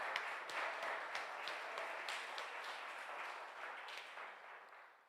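A church congregation applauds after a sermon, a steady wash of many hands clapping at a distance for several seconds before it fades, with no talk over it.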